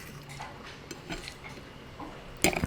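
Indomie Mi Goreng Green Chili instant noodles with egg being stirred in a bowl, with soft scraping and a few clinks of utensil on the dish, ending in a sharper clink, all quiet and close.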